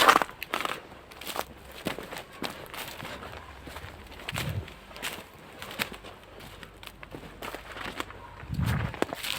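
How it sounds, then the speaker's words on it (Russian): Footsteps crunching along a railway track at an abandoned factory, uneven steps on gravel and debris, close and fairly quiet, with no talk. "Сейчас прогуляюсь по этой дороге железной"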